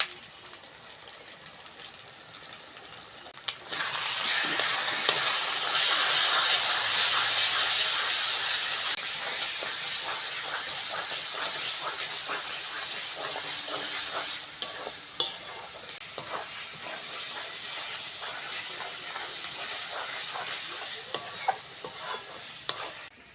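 Cashew, raisin and poppy seed paste with spices hits a hot pan for chicken kosha, bursting into a loud, steady sizzle after a quiet start, then frying on with scattered clinks of stirring.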